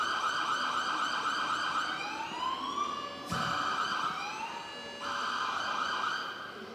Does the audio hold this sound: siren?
yes